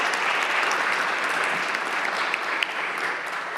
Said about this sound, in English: if we can get them a round of applause